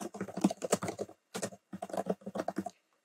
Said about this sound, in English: we're going to type in species observed